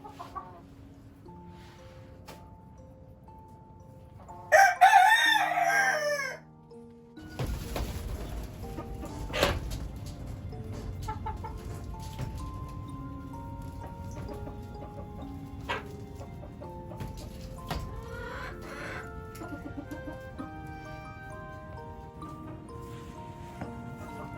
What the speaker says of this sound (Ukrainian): Зараз це півники, зараз сюди ще курочок принести треба.